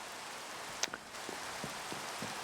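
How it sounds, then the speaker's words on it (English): Steady rain falls at night in a video game, a continuous soft hiss with a few faint drip-like taps scattered through it. "Oh, it's raining out here."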